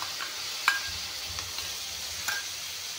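Onion, garlic, ginger and chili paste fry in a pan for a mushroom and tomato dish, giving a steady soft sizzle with a few light stirring scrapes, close and continuous, no talk.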